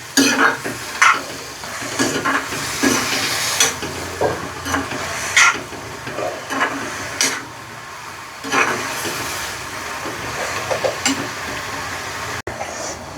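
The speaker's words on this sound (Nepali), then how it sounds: "यसलाई चाहिँ एकछिन बेसरी भुट्छु" Mushrooms fry in a pan for a goat meat curry, crackling under repeated rhythmic stirring with a spoon that scrapes and knocks against the pan, close up, with pauses between strokes and no talk.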